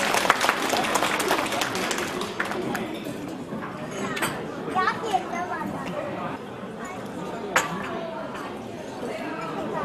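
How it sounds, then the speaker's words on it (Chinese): A crowd at an Australian association's 15th anniversary gala claps to welcome a speaker to the stage, strongest at the start and then thinning into scattered claps under murmuring voices and chatter. "请大家在这里热烈的掌声欢迎中国知青协会啊李炳文先生上台给我们讲几句话"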